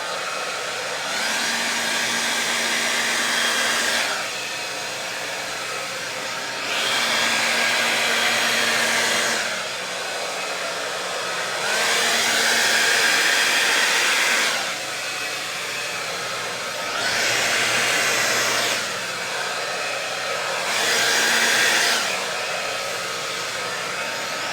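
A hair dryer blows acrylic paint across a Dutch pour canvas in five separate bursts of steady whooshing airflow, each lasting a few seconds, with quieter gaps between them.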